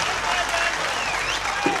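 Steady, enthusiastic applause from the audience at an outdoor Urdu-Hindi mushaira poetry gathering, a dense wash of clapping with scattered voices mixed in.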